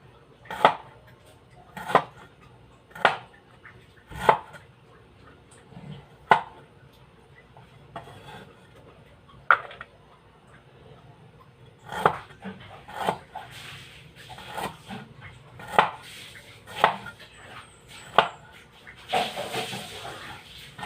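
Ingredients for tilapia adobo are chopped on a board in a kitchen, with a dozen distinct knife thuds spaced a second or two apart, closer and busier toward the end.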